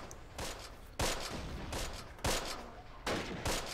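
Panzergrenadier squad gunfire in the Close Combat war game, bursts of rifle and machine-gun fire coming in repeated volleys, moderately loud with a steady background rumble.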